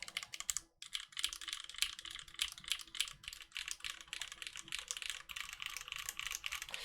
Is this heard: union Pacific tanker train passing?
no